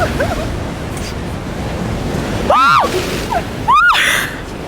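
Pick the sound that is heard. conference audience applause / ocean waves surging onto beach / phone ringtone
ocean waves surging onto beach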